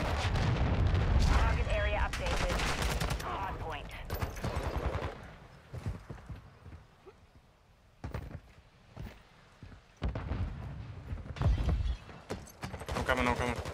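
A cruise missile strike during Call of Duty Modern Warfare 2 ranked play: heavy, loud blasts and rumbling detonations pile up over the first few seconds, followed by quieter scattered gunfire bursts and impacts.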